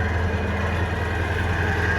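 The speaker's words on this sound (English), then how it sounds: "Start right up. Still has the factory water box and exhaust, so it's really quiet." A Yamaha motorcycle engine idles steadily on its factory water box and stock exhaust, a quiet, even low rumble held close and continuous with no voices.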